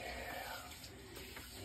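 Warm tap water runs steadily for a dog's bath, a soft, continuous hiss and splash at low volume with no voices.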